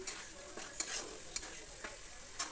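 A spoon stirs a poppy seed and rice paste as it fries in a pan, giving a soft steady sizzle with a few light scrapes and taps against the pan, fairly quiet and without voices.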